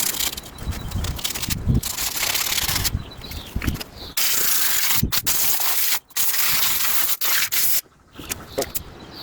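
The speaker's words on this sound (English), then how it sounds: "I'm also going to just sand the shoes slightly just to get any remaining contaminants off" Land Rover brake shoes are sanded by hand with abrasive, giving harsh, loud, close scraping strokes in bursts broken by short pauses.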